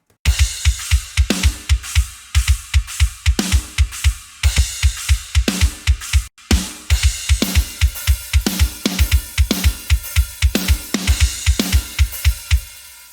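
A heavily processed, sampled metal drum kit plays alone with no other instruments, its punchy kick drum pounding in fast, driving patterns under crashing cymbals and snare hits, loud and close, with a brief gap partway through.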